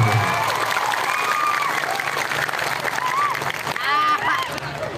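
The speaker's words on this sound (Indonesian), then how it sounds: "Tepuk tangan dulu dong." A gathered audience at a religious talk claps and cheers, scattered applause mixing with crowd noise, shouts and children's voices. Speech cuts through the middle of it.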